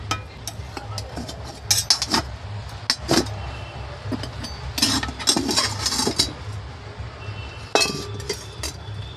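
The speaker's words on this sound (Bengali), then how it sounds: "আধ ঘন্টা পরে আমি এসেছি, ঢাকনাটা খুলে নেব এবার।" A lid comes off a cake pan after half an hour of baking, with repeated sharp metallic clinks and clatters scattered over a low, steady background hum.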